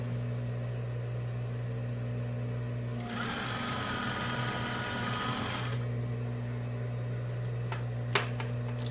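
A sewing machine stitches a seam on a Christmas cushion in one fast, steady run of about three seconds, set between quieter stretches of room hum and a few faint clicks.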